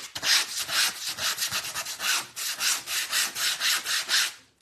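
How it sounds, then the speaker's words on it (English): A sanding block rubs back and forth across a canvas in a fast, even rhythm of about twenty strokes, close and distinct with no talking. "So you can take your little sanding block, you can do a little"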